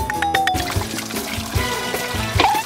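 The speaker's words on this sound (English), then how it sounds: "I'll water them!" Water pours onto clothes in a cartoon, a steady close splashing trickle running throughout over faint background music.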